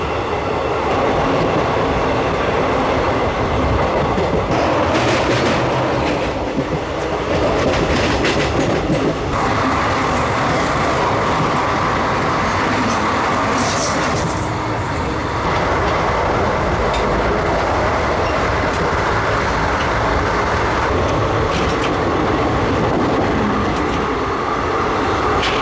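The Wodeyar Express, running from KSR Bengaluru to Mysuru, travels at full speed with a loud, continuous rumble and rattle, rhythmic clickety-clack of wheels over rail joints, and occasional swells of rushing noise, heard from inside the train.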